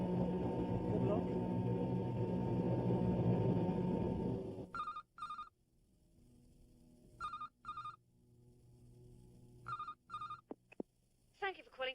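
A telephone rings in an office: a loud, low rumble cuts off, then come three separate bursts of double electronic trills, clear against near silence, before a faint click.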